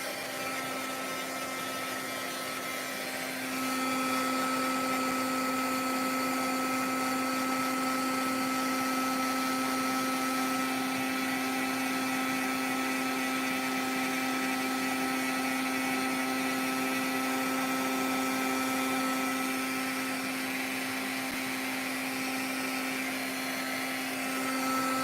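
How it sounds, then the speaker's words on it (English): An embossing heat gun runs continuously for about twenty seconds, a steady whirring fan with a bright hum, switched up to full power after a few seconds and held there, close and loud with no talking. "Let me get my embossing gun here,"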